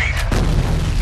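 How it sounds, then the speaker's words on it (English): Grenade explosion in the first-person shooter F.E.A.R., a loud close boom with a hissing noise burst that rolls on briefly after the blast. "Grenade. Grenade."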